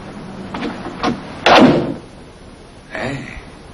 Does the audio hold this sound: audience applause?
no